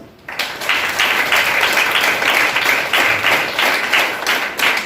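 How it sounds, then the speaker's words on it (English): An audience applauds loudly to welcome the Youth Parliament participants at a school event, a burst of close, energetic clapping that begins abruptly and holds steady with no talking. "let's now welcome all the participants of the Youth Parliament with big round of applause"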